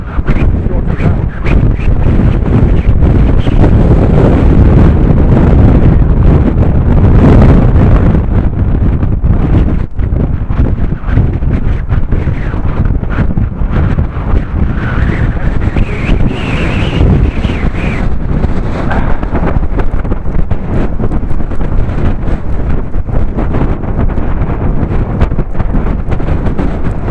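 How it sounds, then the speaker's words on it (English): Very heavy wind roars continuously into the microphone of a cyclist riding over a bridge along a channel, a loud sustained buffeting rumble that swells and gusts throughout with no pause. "Pulling myself through the wind."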